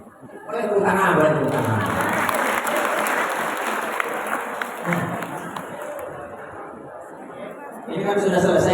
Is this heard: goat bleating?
no